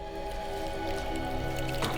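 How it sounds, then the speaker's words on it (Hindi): Water running or dripping inside a closed room in a house, faint and steady with a low hum, a soft splash near the end, no voices. "पानी की आवाज"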